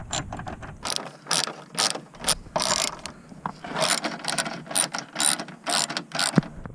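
A ratchet with a 10 mm socket and extension undoing the bumper bolts on an Acura TL AWD, giving quick, close clicking bursts in irregular clusters, some louder swings, with no talking.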